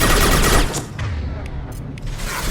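Heavy gunfire in Mass Effect 2 during Zaeed's mission against Vito Santiago, a dense, loud burst of shots and booms up front, then a rumbling firefight with a few sharp cracks continuing to the end.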